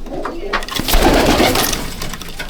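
Malbai pigeons coo in a loft, a steady close chorus of soft, rolling calls with rustling and the odd sharp knock in between.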